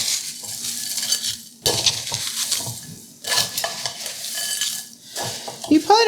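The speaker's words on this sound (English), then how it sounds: "we're going to give it a little" A spatula turns seasoned hash browns with garlic and herbs in a pan, giving loud scraping strokes in several bursts over a crackling sizzle, with a light metallic clink at the end.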